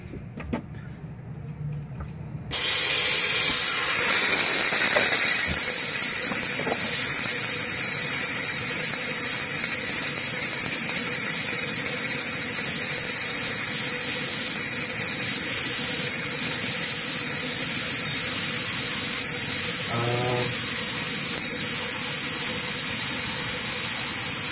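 Compressed natural gas rushes out of the fuel system of a CNG Honda Civic as its pressure is relieved. A loud, steady, close hiss starts abruptly and continues unbroken for over twenty seconds, with a brief faint rattle near the end.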